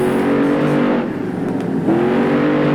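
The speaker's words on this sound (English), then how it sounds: "He's gonna keep railing it here. Revving it up." A monster truck engine in the BeamNG video game revs loudly and steadily up close, its pitch dipping and then climbing again.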